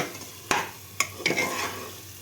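Crushed almonds and cashews are stirred and fried in a pan for paan pulao. A few sharp spoon scrapes come close up over a soft, steady sizzle, with no talking.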